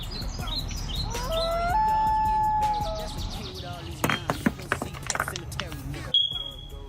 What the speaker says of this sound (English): The chirp is coming.